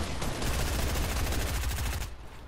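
Dense, rapid automatic gunfire in the Fortnite video game, a loud continuous burst of shots for about two seconds before easing off, with no talk over it.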